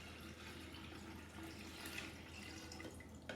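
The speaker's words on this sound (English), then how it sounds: "you will pour the whole thing into the kettle" Water is poured into a kettle in a kitchen, a faint, steady trickle and splash that runs continuously with no one speaking.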